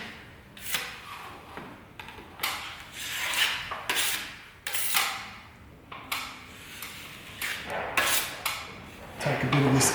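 A joint knife scrapes and smears filler along a ceiling crack in short repeated strokes, each a gritty rasping swipe with brief pauses between passes, close and fairly quiet.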